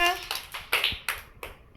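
Children clapping their hands together in a short rhythmic run of about five crisp claps, close and fairly loud, with a voice heard briefly at the start.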